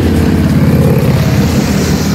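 A convoy of heavy motorcycles rolls past close by on a mountain road, their engines merging into a loud, continuous droning roar that swells slightly as they pass.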